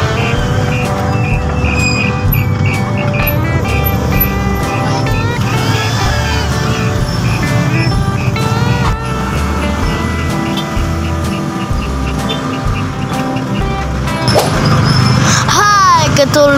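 Heavy road traffic at school dismissal time, with cars and other vehicles passing in a steady close rumble amid a crowd. Voices, including children's, talk over the constant engine noise.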